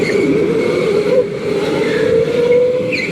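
Go-kart engine droning steadily at a K1 Speed indoor track in Canton, Ohio during a challenge GP main event race, a continuous loud hum with slight rises in pitch and no pauses.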